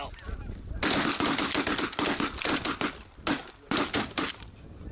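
Geese honking loudly nearby, a dense overlapping chorus of calls, joined by sharp rapid bangs like gunfire partway through, during a waterfowl hunt in Michigan.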